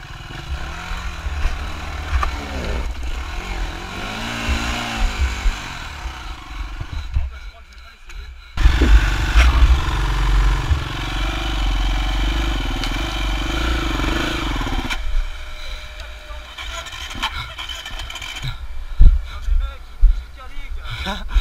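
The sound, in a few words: enduro motorcycle engine starting and revving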